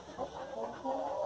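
A crested ornamental hen clucks in short, moderately close bursts, with no clear talking over it.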